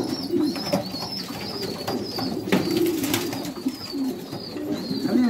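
A Kashmiri pigeon coos nearby in repeated soft, throaty phrases, with other bird calls and faint background noise and no speech.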